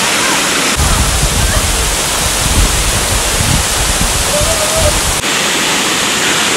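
Steady, loud roar of falling water at Latpanchar fills the whole span as a dense broadband rush, with faint voices murmuring underneath.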